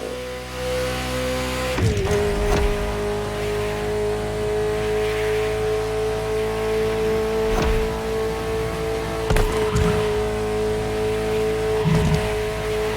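Ferrari F40 supercar in The Crew Motorfest racing game, its engine holding a steady loud drone throughout, with a sharp shift or rev change near the start and brief whooshes and thumps passing over the continuous tone.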